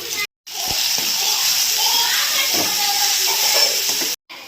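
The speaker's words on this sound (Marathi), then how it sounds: "आता यामध्ये टमाटा परतून घेते" Tomatoes sautéing with onions in a pan give a steady, close sizzle and frying hiss, with a couple of brief clatters and faint voices in the background.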